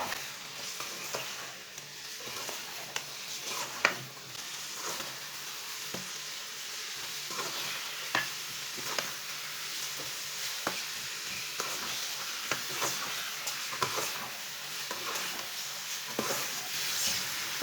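Chicken frying in oil and being stirred with a spoon, a steady close sizzle under regular scraping strokes against the pan, with no talking over it.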